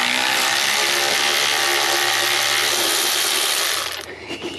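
A cheap power tool runs loud and continuous close up while tightening a nut down onto a bolt, whirring and rattling steadily for about four seconds before cutting off abruptly.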